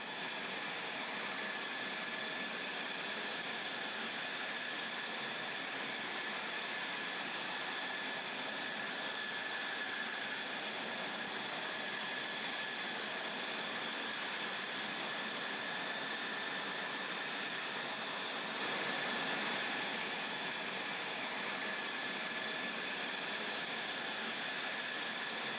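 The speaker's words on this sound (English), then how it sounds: "The F-16s taxied past aerial tankers of the Japanese Air Self-Defense Force" F-16 fighter jets taxi at an Alaska air force base, a steady distant turbine whine and broad hiss that holds unchanged for nearly half a minute, swelling slightly once, with no voices.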